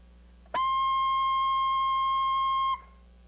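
A single sustained high A on saxophone, fingered with left-hand keys 2 and 3 and the octave key, holds steady for about two seconds, clear and close, with no talking.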